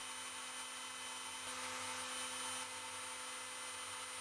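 A CNC mill cuts a 1 cm circle from 0.8 mm aluminium without coolant, a faint, steady high-pitched whine with a constant drone underneath, unbroken and without speech.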